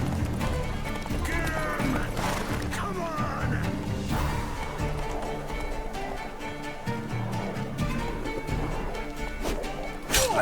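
Horse hooves in The Witcher 3 video game, a busy clip-clop of trotting steps mixed with clattering game effects and background music, with a voice talking over parts.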